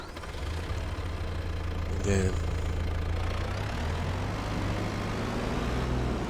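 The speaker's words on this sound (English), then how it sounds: "so let's bring the tractor on around" Tractor engine idling in Farming Simulator 22, a steady low rumble that runs throughout under brief speech, with a short brighter burst near the middle.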